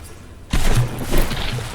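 In a naval battle video game, From The Depths, a sudden loud burst of crashing shell splashes erupts after a moment of quiet hiss, followed by more rumbling impacts that stay loud and dense.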